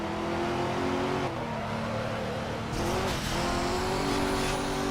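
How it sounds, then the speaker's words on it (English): Car engine surging under a nitrous boost in the Midnight Club 3 racing video game, a loud steady roar with a rising revving pitch and a brief shift in tone midway, heard alone without talk. "using my first burst of nitrous, I figured that was a good time to use it"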